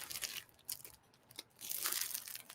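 A plastic bag holding a finished embroidered baby item is handled, giving faint, close crinkling and rustling in several short bursts with quiet gaps between.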